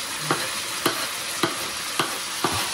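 Kimchi fried rice stirred in a pan: a steady broadband sizzle with five evenly spaced scraping strokes of the spatula, close and clear, no talking.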